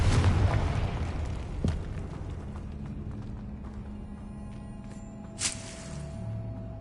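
Confringo blasting spell explosions in the Hogwarts Legacy video game: a heavy booming blast at the start, a second sharper burst, then rumbling decay and a brief crackle near the end.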